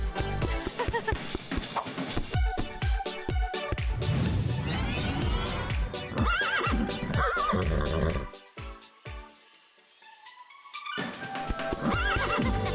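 Zebra calls in a children's ABC video sound as loud, repeated braying whinnies with a rapid, pulsing rhythm, close up, then a brief lull before more calls.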